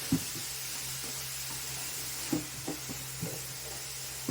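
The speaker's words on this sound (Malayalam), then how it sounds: "നല്ലോണം വഴറ്റിയെടുക്കുക" Grated coconut and vegetables sautéing in a pan, a steady soft sizzle with a few faint scraping knocks of stirring, fairly quiet and alone.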